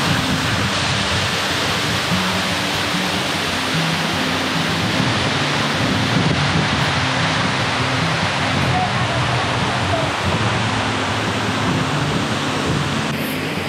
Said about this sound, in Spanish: Increíble la caída de agua que tiene esta estructura de piedra, vea.